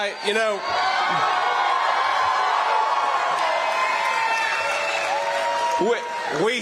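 Rally crowd in Waukesha, Wisconsin cheering, whooping and applauding loudly and continuously, with a voice briefly audible at the start and near the end.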